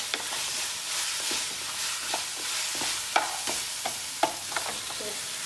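Lentil dumplings (badiyan) stir-fried in spice masala in a pan, a soft continuous sizzle broken by repeated scraping and clacking strokes of a spoon, close and moderately loud, no voices.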